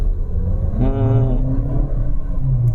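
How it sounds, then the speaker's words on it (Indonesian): Engine of a 2023 Suzuki Grand Vitara Hybrid on a test drive, a low rumble rising in pitch as it accelerates for about a second, then settling, with a voice talking over it. "Gue suka bunyi mesinnya."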